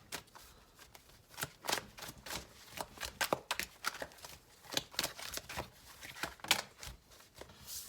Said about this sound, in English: I'm going to go ahead and put these back and keep shuffling just a little bit longer.